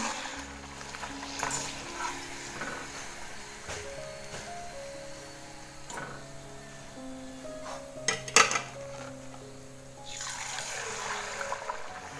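Bottle gourd vadas fry in hot oil with a quiet, steady sizzle, broken by a few sharp utensil clinks.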